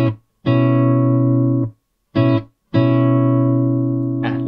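An acoustic guitar strums the intro of a song: a quick short strum, a long ringing chord, a brief choked hit and then another sustained chord, close and loud.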